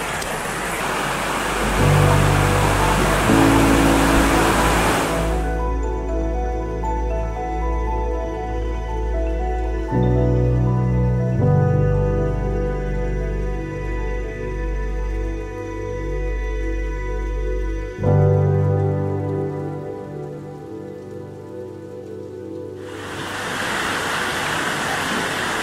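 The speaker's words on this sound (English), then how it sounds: "The river's in full flood at the minute." A river in full flood, raging through woods at Comb Cragg, a dense continuous roar of rushing water, loud and close, briefly cut away in the middle where a steady tonal hum takes over.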